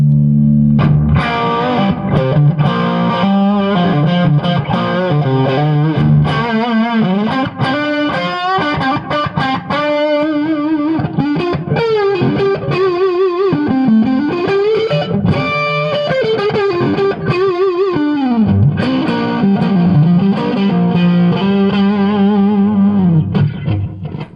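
An electric guitar plays through a Gjika Gainmaster overdrive pedal into a heavily overdriven, cranked Marshall JMP 100 amp, with gritty distorted riffs and bends continuing throughout at loud volume.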